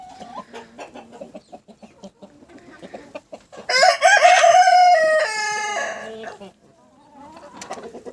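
A Cochin rooster crows once, close and loud, a long strained call that follows soft clucking and is followed by quiet farmyard sounds.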